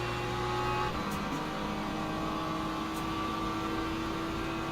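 Hypercars in the racing game Le Mans Ultimate drone past with a steady engine hum and whine, heard from inside a slower car at low level, the pitch shifting as they go by.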